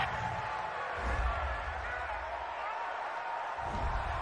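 Stadium crowd at an NFL game, Cincinnati Bengals against Buffalo Bills, reacting to a roughing-the-passer penalty with a sustained, loud, broadband roar that swells slightly around the first second and holds steady.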